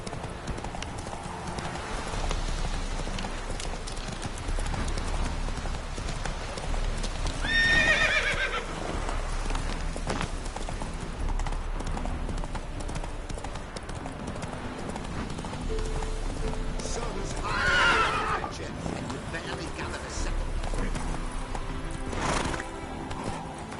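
A horse in The Witcher 3 gallops with rhythmic, continuous hoofbeats and lets out two loud, shrill neighs, the whinnies standing out clearly above the pounding steps.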